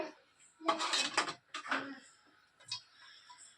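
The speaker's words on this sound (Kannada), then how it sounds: "ಗ್ಯಾಸ್ ಹಚ್ಕೊಂಡು ಒಂದು ತಪ್ಪಲೆ ಇಟ್ಕೊಳ್ತಾ ಇದ್ದೀನಿ" A cooking pot set on a gas stove for mushroom biryani, a few close metallic clanks and scrapes of cookware in a quiet kitchen, with brief pauses between.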